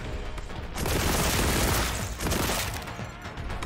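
Dense, sustained gunfire from the video game Warhammer 40,000: Boltgun, a loud continuous barrage with a brief dip midway before swelling again, no voices over it.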